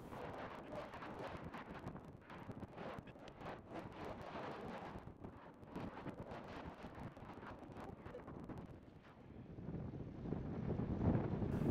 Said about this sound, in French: Le vent s'intensifie, ce n'est pas de très bon augure pour le traverser.